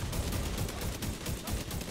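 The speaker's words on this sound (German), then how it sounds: "Was war das denn für ein Schuss?" Rapid bursts of gunfire in the video game The Division 2 crackle continuously, dense and muffled, fairly quiet in the mix.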